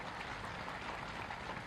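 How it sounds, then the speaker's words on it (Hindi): Applause from a political welcome crowd in Gwalior, a dense continuous patter of many hands clapping at a moderate, somewhat distant level. "तालियों की गड़गड़ाहट से स्वागत किया जाए।"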